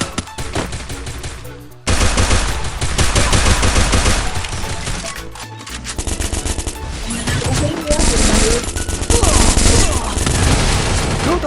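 Rapid gunfire bursts in a ranked match of a mobile battle game, loud and dense over game music and effects, with brief voice callouts from the game mixed in.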